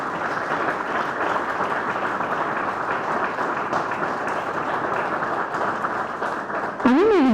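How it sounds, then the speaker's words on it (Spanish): An audience claps steadily at a book launch event, a continuous wash of applause that holds for several seconds before a voice begins talking at the end. "Fuerte el aplauso, por favor."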